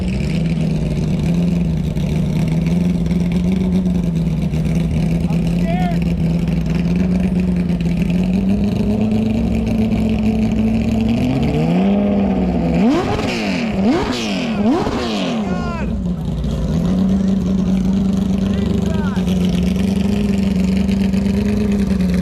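A non-street-legal race car engine drones loudly at a steady idle in an airport hangar, then revs hard several times in quick sweeping bursts before settling back to a rumbling hum.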